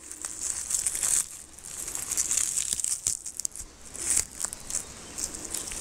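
Lemongrass stalks are scrunched and knotted in a few close, papery crinkles and crackles, with faint outdoor ambience behind them.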